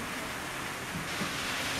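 Rain falls steadily at an outdoor public gathering in Zaidpur, Barabanki, a faint, even hiss of drops with no voices and no distinct individual sounds standing out.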